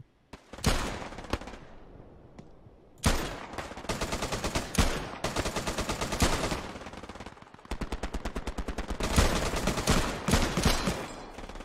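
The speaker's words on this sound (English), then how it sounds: "I'm gonna empty my clip" Gunfire in the WW2 shooter Hell Let Loose: loud, close bursts of rapid automatic fire broken by short pauses and a few single shots, with no talking.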